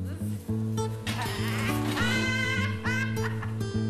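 Young lambs bleat in quick succession, several overlapping calls close to the listener, loud and wavering, with a person's voice faintly mixed in.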